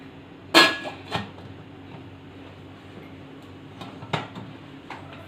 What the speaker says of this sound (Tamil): இந்த இட்லி பாத்திரத்தை உள்ளே வைக்கணும்.